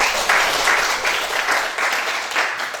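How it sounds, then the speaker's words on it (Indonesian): A classroom of students claps together in a brief, dense burst of applause, close and lively, fading slightly toward the end. "Beri aplaus dulu."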